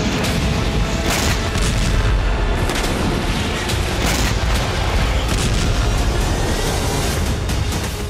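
A dense, continuous roar of heavy booming blasts and rumbling, loud and sustained throughout, with sharper bursts rising out of the din.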